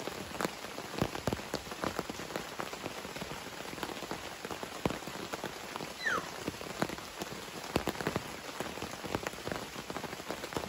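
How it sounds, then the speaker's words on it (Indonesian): Heavy rain falls steadily in a forest at a solo campsite, a dense, even patter of drops striking nearby surfaces, with sharper individual splats scattered throughout and no voices. "Jadi cuacanya hujan seperti ini."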